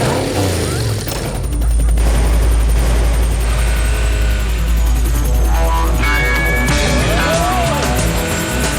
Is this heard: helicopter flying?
yes